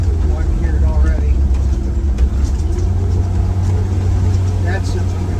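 An RV engine runs on a dyno with its cooling fan roaring, a steady loud rumble and whoosh throughout.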